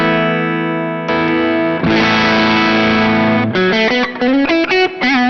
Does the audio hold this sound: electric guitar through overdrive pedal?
yes